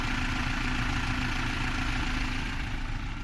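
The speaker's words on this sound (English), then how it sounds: "this is what it sounds like when it's idling" A 2024 Toyota Tacoma TRD Off Road pickup truck engine at steady idle, a constant low rumble with mid-range drone and no changes in pace, close to the microphone and without talk.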